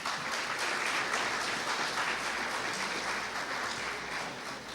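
Audience applause at a school football league awards ceremony honouring the league winners, steady dense clapping from a crowd that fills the whole stretch without a break.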